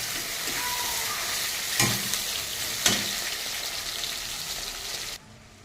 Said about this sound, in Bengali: বন্ধুরা আমার মশলাটা কিন্তু ভাজা হয়ে গেছে।